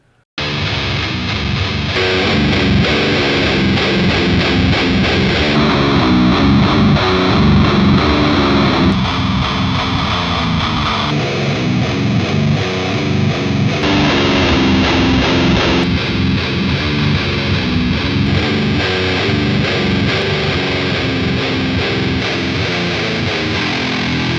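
Heavily distorted, low-tuned electric guitar riffing steadily through the Otto Audio II II II II amp simulator with different cab sims, loud and continuous with chugging rhythm and shifting tone across sections.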